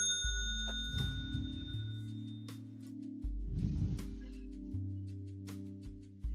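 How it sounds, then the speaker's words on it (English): A small bell dings as a comic sound effect on a talk show, giving a bright, short ring with a fading tone over a soft, low musical backing, then quieter clicks and taps. "so here's a bell."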